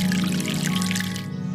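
Water poured onto a seed bed in a children's animated show, a steady continuous pour with a sustained tone running throughout, close and fairly loud.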